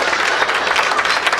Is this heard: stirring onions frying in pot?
no